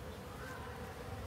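Honeybees gathered at the entrance of a Langstroth hive during a colony transfer make a soft, steady, continuous buzz, faint and diffuse.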